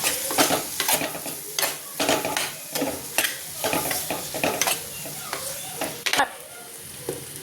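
Kashmiri chili powder is stirred into a Kerala dried fish curry in a pan, with steady scraping strokes over a constant sizzle, close and fairly loud.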